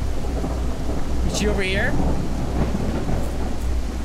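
Heavy rain hisses steadily with a low rolling rumble of thunder in the horror video game Exanimum: The Silent Call, constant and close, while someone speaks briefly over the downpour.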